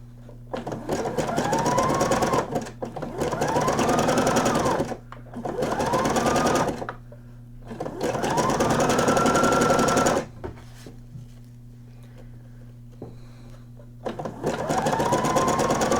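A domestic sewing machine stitching a nightgown seam runs in several bursts of a few seconds each, its motor whirring up and down, with short pauses between runs as the fabric is turned at a corner.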